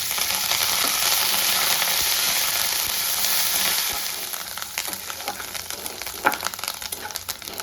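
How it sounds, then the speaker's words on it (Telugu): Mustard seeds, chana dal, urad dal, dried red chillies and curry leaves splutter and sizzle in hot oil for an upma tempering, a dense hiss easing into scattered pops and crackles, close and without voices. "ఉప్మా వేగిపోయాయి, ఆవాలన్నీ చెట్పట్లు ఆడుతున్నాయి, చక్కగా దోరగా వేగాయి అన్నమాట"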